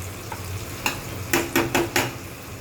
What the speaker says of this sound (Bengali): চলো বাটা মাছগুলো একে একে ভেজে নিই